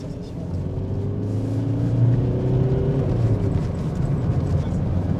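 A Citroën Xsara car accelerating, its engine drone rising and holding steady at close range, heard from inside the car with a low rumble throughout.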